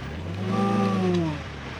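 Supercharged BMW E46 engine revving once, a close, smooth rise in pitch that peaks and falls back to idle within about a second, with no voices over it.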